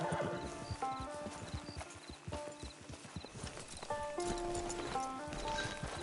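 A horse in the Red Dead video game clops along in a steady rhythm of hooves at moderate distance, with a whinny breaking in near the end over soft in-game background sound.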